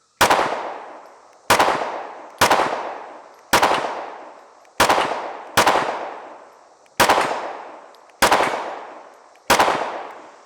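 Nine sharp pistol shots from an M&P Carry Comp fired at a target outdoors, spaced about a second apart, each a loud crack with a short decaying echo.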